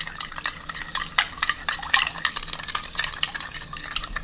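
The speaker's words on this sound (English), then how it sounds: "Just going to dissolve some of the sugar." A spoon stirs sugar into a sauce for Chinese-style ribs, scraping and clinking steadily against a pot in quick, uneven strokes, close and fairly loud, with no talking.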